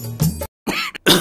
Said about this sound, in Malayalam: അമ്മന്റെ ചുമ ഇനി മാറിയില്ലേ?